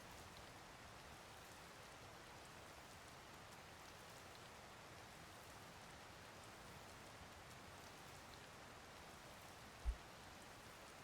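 Soft, steady rainfall in The Legend of Zelda: Tears of the Kingdom hisses evenly throughout, faint and continuous, with a single brief low thump near the end.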